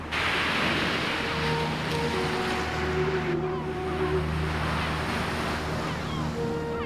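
Black Sea surf washes steadily against the Bulgarian shore in a continuous roar, with some wind noise over the microphone.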